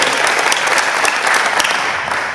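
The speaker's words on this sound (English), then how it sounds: "Let's give Carolyn a big round of applause because it's always wonderful." Club members at a meeting applaud Carolyn Booth, a steady, dense round of clapping from a close room crowd that holds evenly throughout with no talk over it.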